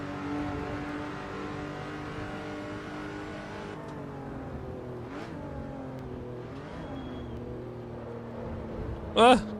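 A race car in Assetto Corsa EVO brakes and downshifts, the engine note stepping down in a series of falling pitches and blips, fairly close and steady, ending with a short sharp burst.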